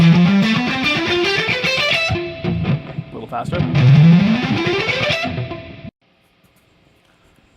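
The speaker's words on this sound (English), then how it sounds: "Or you could economy pick it, which would sound like this." Distorted electric guitar runs up a scale using economy picking, with smooth, quick rising notes, loud and close. The run is played twice, with a short spoken remark in between, and ends abruptly in near silence.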